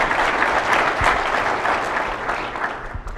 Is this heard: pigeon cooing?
no